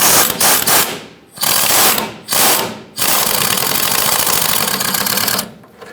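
Ratchet wrench with a 14mm socket tightening a front sway bar link nut on a 2007-2014 Chevrolet Silverado 2500 HD, heard as rapid loud clicking in several bursts with short pauses, close up and alone.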